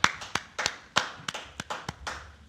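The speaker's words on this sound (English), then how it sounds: "Clap it up." A small group at the Israelite School of Universal Practical Knowledge in Harlem claps in a loose rhythm, about a dozen distinct, sharp hand claps spaced unevenly, close and alone without talk.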